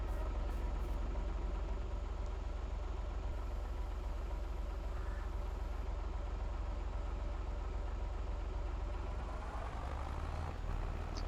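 Tractor engine in Farming Simulator 22 drones steadily while pulling a heavy load slowly, a constant low rumble that holds for the whole stretch with no talk.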